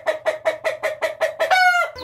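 A pemacet-breed chicken clucks close by in a steady run of about eight evenly spaced clucks, ending in a longer drawn-out squawk.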